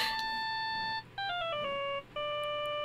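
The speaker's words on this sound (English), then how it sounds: "That's a lame ass ringtone, Phoenix." A phone ringtone from the Phoenix Wright: Justice For All video game plays alone as a clear, steady electronic melody of stepped beeping notes, broken by two short pauses.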